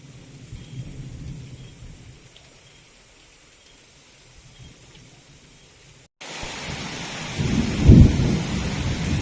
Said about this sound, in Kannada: ಇಟ್ಸ್ ರೈನಿ ಮಳೆ ಬರ್ತಾ ಇದೆ